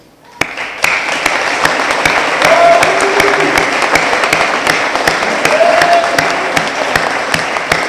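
An audience at a fire department awards ceremony breaks into sustained applause, a steady dense wash of clapping that starts abruptly and holds at an even level for several seconds.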